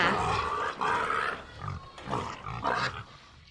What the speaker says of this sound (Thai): หมูป่าทั้งสองตัว จึงรีบหนีเข้าป่า